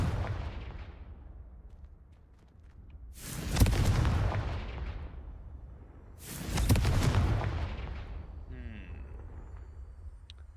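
Two loud, close explosive blasts from the Confringo spell in Hogwarts Legacy, each a sharp broadband boom trailing into a rumbling decay, about three seconds apart over a low ambient hum.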